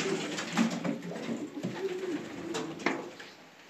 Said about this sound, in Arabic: قامت الحمام كله.